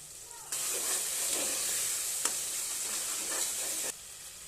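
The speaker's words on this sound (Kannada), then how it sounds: "ಶುಂಠಿ ಬೆಳ್ಳುಳ್ಳಿ ಪೇಸ್ಟ್ ಹಸಿ ವಾಸನೆ ಹೋಗೋವರೆಗೂ ಚೆನ್ನಾಗಿ ಫ್ರೈ ಮಾಡ್ಕೊಳ್ಳಿ" Ginger garlic paste frying with tomato in a hot pan gives a steady, loud, close sizzle that starts abruptly, holds for about three seconds with a brief crackle midway, then cuts off.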